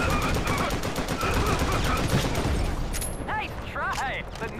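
Rapid bursts of gunfire from the mobile shooter Modern Combat Versus, loud and continuous over a busy game soundscape, with a person talking throughout.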